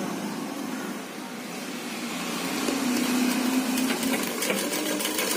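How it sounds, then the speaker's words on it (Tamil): A pedal-operated sewing machine stitches folded cloth, giving a steady, close mechanical whirr and rattle throughout, with no speech. "அந்த மோட்ரு போட ரொம்ப நாய்ஸ் வருதுங்கிறதுனால உங்களுக்கு நான் பெடல் பண்ணியே காமிக்கிறேன்."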